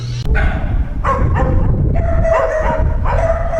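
Several dogs bark and yip in quick, overlapping bursts in a Cuban neighborhood, loud and close, with a whimpering edge to some calls.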